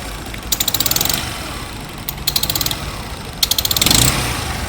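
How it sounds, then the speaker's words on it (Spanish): A motorcycle engine with a strange noise revs in short bursts, each one carrying a rapid rattling tick, three separate blips separated by a steady idle, close and fairly loud. "esta moto que tiene un ruido extraño"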